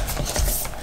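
Paper being cut for a Provence-themed photo album's inside cover, a steady close-up rasping and snipping that runs through the whole moment with slight swells in loudness.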